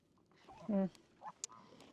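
Farm geese give a short honking call up close, followed by a couple of fainter, briefer squawks, with quiet background otherwise.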